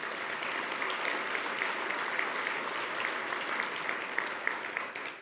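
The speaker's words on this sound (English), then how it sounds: "let's give them all a round of applause," An audience at the Broyles Award ceremony claps for volunteers and hosts, a moderately distant, steady patter of many hands with a few sharper individual claps, tapering off at the close.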